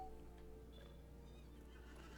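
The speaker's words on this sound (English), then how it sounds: "Aha, here it is. The Elf Ambassador's horse." A horse whinnies faintly in Lord of the Rings Online, the Elf Ambassador's mount, a quiet drawn-out neigh over a low steady hum with no speech.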